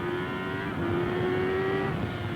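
A 750cc TTF1 racing motorcycle powers hard out of a hairpin at Oulton Park in a 1991 British Supercup race, its engine note a loud, sustained high-pitched whine rising steadily with no voices over it.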